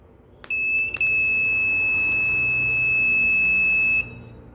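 A 24V inverter's loud, piercing electronic buzzer tone sounds continuously for about three and a half seconds after a couple of brief clicks, then cuts off abruptly.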